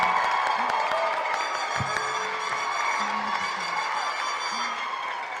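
A high school graduation audience applauds and cheers for the 2018 graduates: a steady, dense wash of clapping with scattered whoops, filling the room evenly for several seconds.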